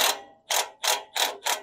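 A ratchet clicks in quick bursts while loosening 14 mm header bolts on a Polaris RZR Pro R side-by-side, four to five crisp, close ratcheting strokes separated by brief pauses.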